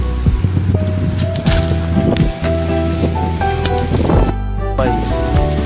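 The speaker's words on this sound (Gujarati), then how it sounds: "પવન ફૂલ છે યાર" Strong wind buffets the microphone outdoors in a continuous loud, rushing roar, with voices and other tonal sounds mixed in underneath.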